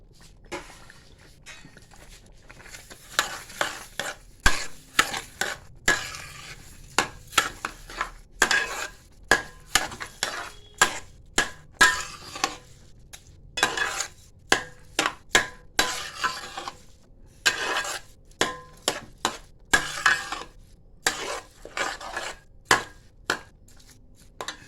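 Roasted mung dal being stirred into a thick mixture in a pan, with a steady series of close scraping and knocking strokes of the spoon against metal, evenly spaced and moderately loud.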